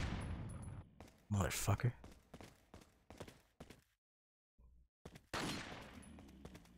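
Gunshots from Resident Evil 4 come in short bursts separated by silent gaps, with a voice cursing between them.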